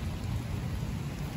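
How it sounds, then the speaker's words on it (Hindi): Heavy rain pouring down outdoors, a dense, unbroken hiss with a deep low rumble that stays loud and even from start to finish, with no voices. "फुल बारिश हो रही है और ये भीग रहे हैं बहुत,"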